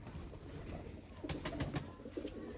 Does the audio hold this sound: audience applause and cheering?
no